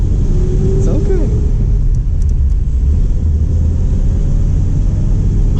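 A 73-year-old Plymouth car engine drones in a steady low rumble from inside the moving car, loud and constant, with voices talking over it.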